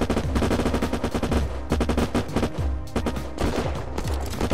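Loud, dense gunfire from the Unturned video game: rapid overlapping shots and bursts hammer continuously for several seconds with no pause.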